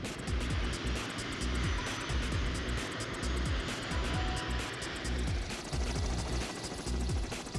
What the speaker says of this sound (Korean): 출동 준비를 마친 헬기가 서서히 시동을 건다.